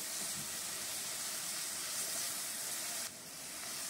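Onion, ginger and garlic paste sautéing for a Bengali coriander chicken, a steady, close sizzling hiss that runs without a break and drops slightly in level near the end.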